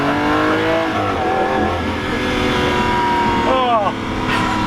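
Lamborghini Aventador with a single-clutch gearbox, its engine droning loud and steady from inside the cabin, climbing and briefly dipping near the end, with people talking over it.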